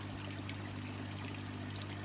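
Water from a koi pond's pre-barrel filter system flows back into the pond as a steady, close pour and trickle, with a constant low hum underneath and no voices.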